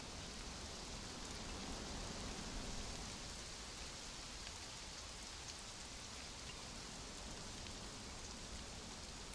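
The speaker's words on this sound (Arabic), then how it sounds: "هذا هو وقف المطر." Steady rain falls in the video game Conan Exiles, a dense, even hiss of downpour filling the whole stretch without breaks, fairly soft and with no voices over it.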